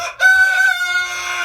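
A rooster crows once inside a barn chicken coop, a single loud, close, drawn-out cock-a-doodle-doo rising and trailing off with no talk.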